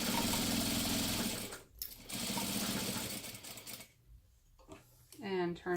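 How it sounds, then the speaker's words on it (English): A sewing machine stitches along the top edge of a fabric crossbody bag, running steadily and loudly for a few seconds, stopping briefly, then resuming. A short voice comes in near the end. "Turn, sew along the top."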